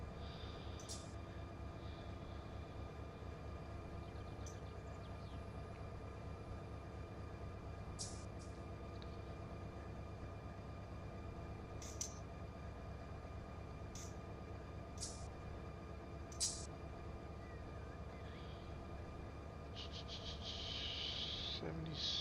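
Train running in a train simulator game, a steady low rumble and drone of the locomotive and rolling cars that holds throughout, with a few faint clicks and brief higher sounds scattered over it.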